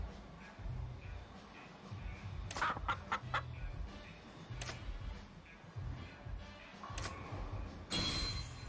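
A chicken in a Yakuza video game clucks in a few quick bursts against a steady game background with faint ticking, the sharp clucks spaced across the clip.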